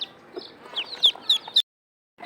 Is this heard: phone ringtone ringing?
no